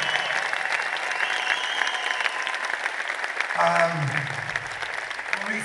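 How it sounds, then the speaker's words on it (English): A crowd at a tribute concert gives a round of applause, a continuous rustle of clapping in a hall, with a voice briefly speaking over it partway through. "Big round of applause for the Kilner clan"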